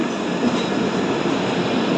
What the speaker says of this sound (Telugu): Andhra railway station platform number two నుంచి ఏదో ట్రైన్ సైలెంట్గా అయితే వెళ్ళిపోతుంది